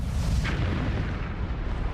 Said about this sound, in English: In a few seconds, it would have been this enormous explosion.